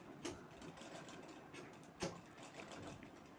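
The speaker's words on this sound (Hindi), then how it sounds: "इसलिए अच्छे से सिलाई लगा देनी है।" A sewing machine stitches a round shagun potli bag, a quiet, steady mechanical whir with soft rhythmic clicks and a couple of sharper knocks, alone without any speech.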